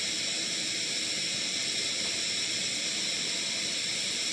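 A Primus ETA Lite canister camping stove burning at full output gives a steady, even hiss that holds constant without a break and sounds close and alone.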